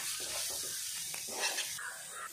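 Spicy egg pepper dry fries in a pan with masala, salt and turmeric, giving off a continuous close, bright sizzling hiss that swells and fades slightly.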